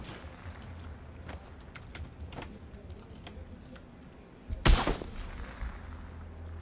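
Gunfire sounds from the battle royale game PUBG, a few faint distant cracks early on, then one loud, sharp close shot near the end with a short tail, amid light clicking and no speech.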